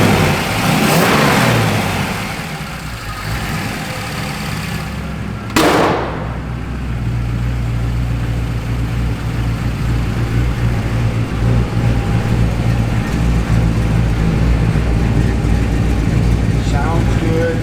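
A 1964 Chevrolet Impala's engine runs loud and steady at a low idle, with a brief rise in revs near the start before it settles back into a continuous rumble.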